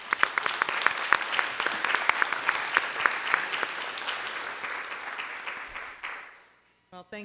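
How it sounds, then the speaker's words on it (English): Sustained audience applause at a board meeting, steady crowd clapping in an indoor room that tapers off and fades out toward the end. "And I want you all to give an applause"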